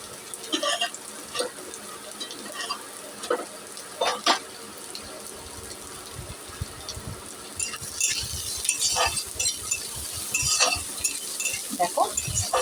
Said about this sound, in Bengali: দেখো পেঁয়াজটা হালকা ভাজা হয়ে গেছে